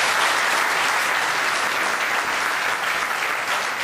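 Sustained applause from an audience at an international architecture workshop at Inha University, a dense even clatter of many hands filling the whole stretch without talk.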